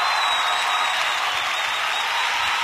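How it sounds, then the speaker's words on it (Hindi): Sustained, even applause from a sizable crowd at an awards ceremony, dense clapping with no breaks throughout. "जोरदार तालियां"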